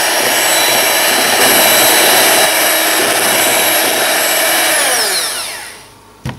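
An electric mixer beats egg yolks with milk, its loud, steady motor whine running continuously for several seconds before winding down and stopping near the end.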